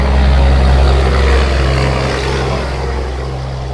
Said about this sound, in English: Pardon the sound, that loud truck.